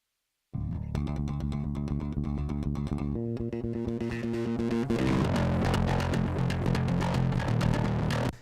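A heavy metal bass track blended with a parallel-compressed copy plays loud and dense, a sustained low-end riff with shifting notes running continuously for about eight seconds after a brief silent start, with no talking.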